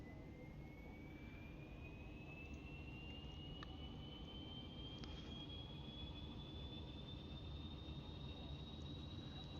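A Saab 340 turboprop's right engine spools up during start in a flight simulator, a steady rising whine climbing in pitch over a constant broadband roar, with a couple of faint clicks along the way.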